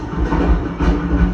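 A train rolling along the rails in South Australia, heard from inside a carriage as a loud, steady low rumble with rhythmic swells and surges throughout, no voices present.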